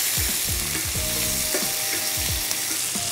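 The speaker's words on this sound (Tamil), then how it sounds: "நம்மளோட வெங்காயம் தக்காளி போட்டு தாளித்து மஞ்சத்தூள் போட்டு இது நல்லா வதங்கிக்கிட்டு இருக்கு." Onion and tomato sauté in an oiled pan with turmeric, giving a constant loud sizzle and crackle with repeated scraping stir strokes throughout, no voices.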